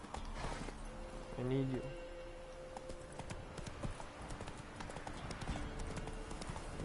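Hooves of the horse Roach clip-clop steadily across ground in The Witcher 3, a quiet even trot over ambient game sound, with a voice speaking briefly.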